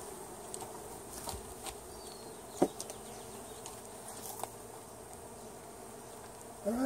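Honeybees hum steadily during a weekly beehive inspection in swarm season, a low continuous buzz with a few brief clicks and knocks from handling the hive.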